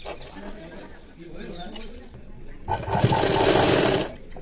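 A sewing machine runs in a short, loud burst of rapid stitching as it sews cloth piping for a square neckline, preceded by nearby handling noise and a voice talking.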